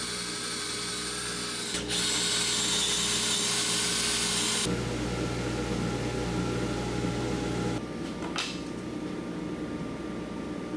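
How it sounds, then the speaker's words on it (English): A power drill bores drain holes through cedar fence pickets stacked four high over a waste board, whining loudly for several seconds, then dropping to a lower grinding pitch, stopping, and starting again briefly. "go ahead and just drill those drain holes."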